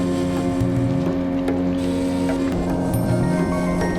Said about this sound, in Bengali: আমাদের বোট তখন ড্যামের স্বচ্ছ জল ছিটিয়ে এগিয়ে চলেছে